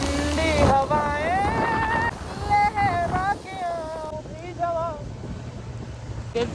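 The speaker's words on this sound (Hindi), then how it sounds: "ठंडी हवाएं" Cold wind in the hills of Uttarakhand buffets the microphone of a Kawasaki Z900 superbike while it is ridden, a rough low rush heard under a voice talking throughout.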